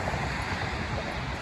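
Dunfield Creek on the Appalachian Trail in New Jersey rushes steadily as a dense, continuous wash of flowing water, loud and close with no pauses.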